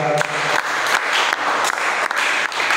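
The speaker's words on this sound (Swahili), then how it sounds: "Nipigie makofi mazuri ni kwa watu waliofika." A church congregation gives a round of applause, brisk rhythmic clapping from a nearby crowd with a few brief dips in intensity.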